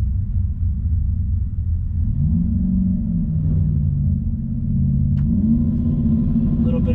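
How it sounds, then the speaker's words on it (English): GMC Sierra 2.7L turbo pickup held on the brakes at a drag strip, its engine droning loudly and climbing in pitch as it launches, with tyre noise toward the end. "A little bit of brake boosting, see what happens. That was a whole bunch of wheels spin."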